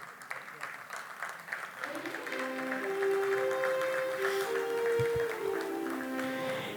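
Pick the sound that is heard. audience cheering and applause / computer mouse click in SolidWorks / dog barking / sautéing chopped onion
audience cheering and applause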